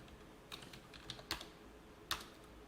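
Computer keyboard keys are tapped in a sparse, quiet sequence of clicks, with a couple of sharper, louder strikes like the Enter key, close up with no talking.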